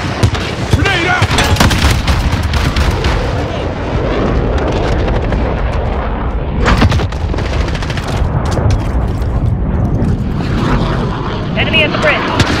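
Explosions and bursts of gunfire from Modern Warfare 2019 on PS5, including an AA-12 shotgun with frag rounds, loud and continuous with a sharp blast near the middle, under radio chatter and voices.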